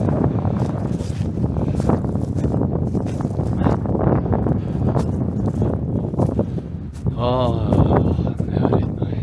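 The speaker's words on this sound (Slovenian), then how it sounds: "Tukaj pa zelo rado piha." Strong wind blows outdoors on a hike along the edge of the Ljubljana Marsh near Borovnica, a loud continuous buffeting roar across the microphone, while people talk throughout.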